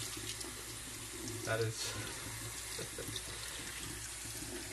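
Tap water runs steadily into a sink, rinsing lentils in a colander, a continuous splashing hiss with a brief louder gush near the middle, and a voice speaks briefly over it.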